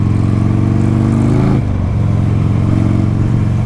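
Buell XB motorcycle V-twin idling low around 800 to 900 RPM, a loud, steady lumpy throb with mechanical clatter and a brief dip midway, heard close with no voices.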